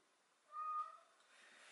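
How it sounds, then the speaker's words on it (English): A house cat gives a single short, faint meow in a quiet room, a brief tonal call that fades into soft background hiss. "My cat's meowing."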